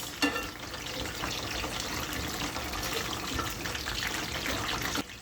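Ackee and corned beef fry in oil in a pot, giving a soft continuous sizzle with faint bubbling, fairly quiet and even throughout.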